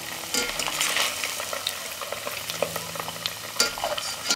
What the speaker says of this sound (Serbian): pogledajte kako fino, lagano dobijaju lepu boju i ostavit ćemo još malo da se prže